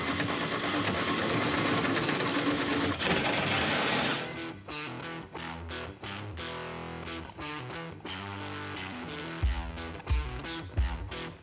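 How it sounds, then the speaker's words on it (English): A power tool cuts holes through the painted metal core support of a turbo-swapped project car, starting as a loud, continuous harsh grinding whine, then breaking into short, choppy bursts of cutting with brief pauses. "cutting holes through this core support that's paint mashed and doesn't have any holes in it"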